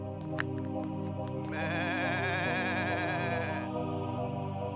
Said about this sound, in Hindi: अरे अरे, ये रही मेरी बकरियां।